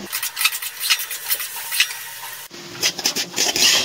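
Chapila fish, potatoes and green mango cooking down with spices are stirred in a pan, giving close, repeated scraping and clattering strokes over a faint sizzle.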